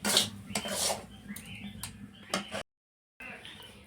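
A spatula scrapes and clinks against a wok while semolina is stirred dry over heat, producing light, irregular metallic taps and scrapes at close range, briefly cutting to silence near the end.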